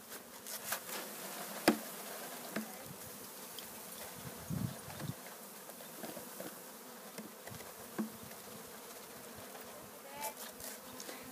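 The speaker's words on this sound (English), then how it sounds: "Beat the bees down a little bit." Honeybees buzz continuously while a bee package is installed into a hive, a close, steady drone with occasional soft knocks and taps.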